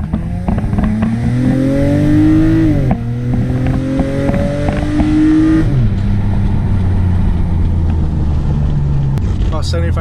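A 2005 Nissan Altima SE-R accelerates at about three-quarter throttle in manual mode, the engine note climbing steadily through two gear changes and then settling, loud and close throughout.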